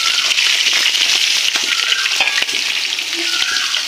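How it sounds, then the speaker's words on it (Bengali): Rohu fish pieces fry gently in hot oil, giving a steady, close, dense sizzle with small crackles and pops throughout, no voices. "দেখো আমি মাছটা আলতো করে ভেজে নিচ্ছি।"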